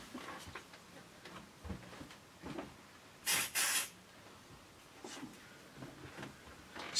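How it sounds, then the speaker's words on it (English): A Smoke Sabre aerosol can fires short bursts of test smoke at a smoke detector during a fire alarm walk test, with two close, sharp hissing sprays in the middle and faint background noise around them. "Spray smoke at the actual detector."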